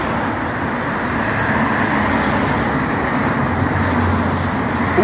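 Road traffic on Dickens Road in Gravesend rumbles past, with cars, buses and trucks making a loud, continuous roadway wash close by, with no talk over it.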